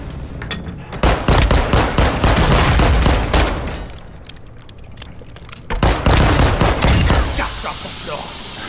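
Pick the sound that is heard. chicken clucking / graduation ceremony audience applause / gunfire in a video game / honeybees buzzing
gunfire in a video game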